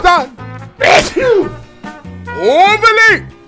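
A single sharp sneeze bursts out during an animated card-game duel, set among excited, overlapping character voices that talk before and after it.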